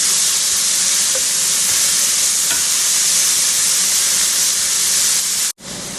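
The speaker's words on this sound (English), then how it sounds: "dump all your peppers in. Stir those for just a minute or two." Peppers are stirred and fried in a hot skillet, producing a loud, dense sizzle with scraping stirs that runs continuously, then cuts out abruptly just before the end.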